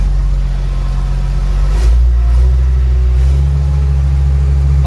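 A 700 dozer's engine revs hard while it crawls onto a trailer, a loud, close, steady low rumble with a brief throttle surge partway through and no talk.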